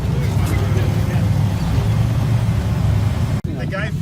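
An Ultra4 rock crawler race vehicle finishing its race at the AOAA Off-Road Park in Shamokin, Pennsylvania, with a loud, steady engine drone and a sharp knock near the end, under a voice talking.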